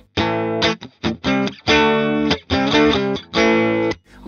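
An electric guitar with its humbucker coil-tapped plays through a clean amp, giving a string of bright, separated single notes and short chords with a brief pause between phrases, loud and close with no voice.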